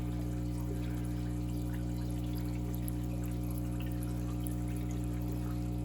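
Water pours and trickles steadily while baby plecos are rinsed out of a breeding tank, a faint, even flow over a constant low hum with no voices.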